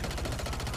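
A sustained, dense stream of automatic gunfire in Modern Warfare 3, loud and continuous with no pauses, with no voices heard.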